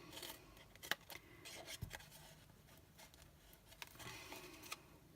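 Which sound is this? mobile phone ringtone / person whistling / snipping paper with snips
snipping paper with snips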